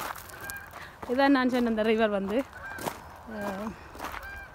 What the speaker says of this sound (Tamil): இந்த பறவை எல்லாம் போகுது சத்தம் போட்டு கொண்டு